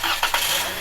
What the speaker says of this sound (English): be ready to start the engine